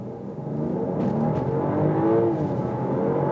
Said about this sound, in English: That's great sound here from the inline 6-cylinder.